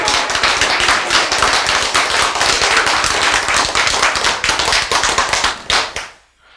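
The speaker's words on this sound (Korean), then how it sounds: "어떤 사람은 좀 박수 치는데 게으른 것 같아." An audience claps steadily, a dense crackle of many hands that holds loud for about six seconds and then quickly dies away.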